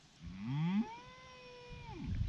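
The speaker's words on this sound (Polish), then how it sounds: "O, to jest chyba byczek." A single drawn-out moo from a young bull, rising in pitch then holding a steady tone before dropping off, fairly close with no talking.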